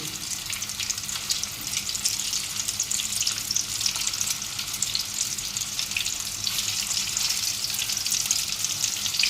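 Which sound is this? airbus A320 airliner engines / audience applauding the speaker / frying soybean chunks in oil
frying soybean chunks in oil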